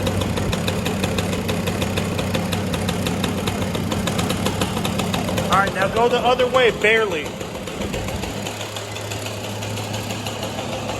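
A small Yamaha PW80 dirt bike engine idles steadily with a low rumble throughout while its carburetor idle is tuned, and someone speaks over it near the start.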